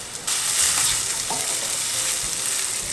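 Bell peppers hit a lightly oiled wok and sizzle loudly and steadily, with a few quick stirs and tosses scraping the pan, no voices over it.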